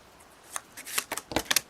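Tarot cards are shuffled and pulled from the deck in a quick burst of close, crisp riffling and flicking snaps lasting about a second, with no talking.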